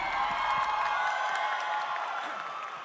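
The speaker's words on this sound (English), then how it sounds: "Once again for the crowd, give a round of applause for SLT!" An esports arena crowd at a VCT Ascension Pacific 2025 playoff match applauds and cheers for team SLT, a dense, steady roar of clapping and whoops that fades slightly toward the end.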